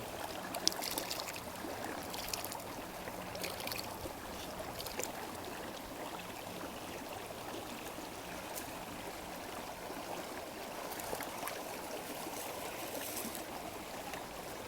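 Sphagnum moss being rinsed in water outdoors while camping, a steady trickling and gurgling wash with soft splashes, close and continuous with no talk.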